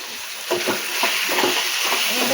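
Chopped tomatoes hit hot ginger garlic paste in a pan for dhaba-style paneer bhurji, giving a steady close sizzle broken by a few soft stirring scrapes, with no voices.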